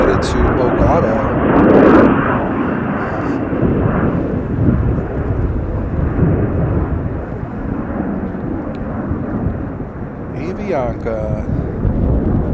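Avianca flight 263, a jet departing Chicago O'Hare for Bogota, gives a loud, broad engine roar that swells early and then holds steady, with brief voice and bird-like chirps near the end.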